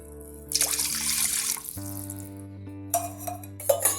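Water pours in two bursts, splashing into a cooking pan for Mysore pak over a steady low electrical hum, with a few drips and clinks between.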